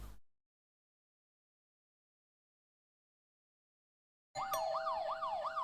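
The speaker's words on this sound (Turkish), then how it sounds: "Polis sesi geliyor. Aa polis geliyor." Police siren wailing in a horror video game, suddenly bursting in loud and close after a long stretch of silence, its rising and falling whoop repeating steadily.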